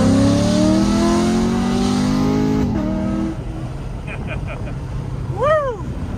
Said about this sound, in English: let's burn a little more rubber